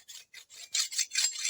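A hand file rasping along a cutlass blade, short repeated scraping strokes in an uneven rhythm, close and fairly loud, growing stronger toward the end.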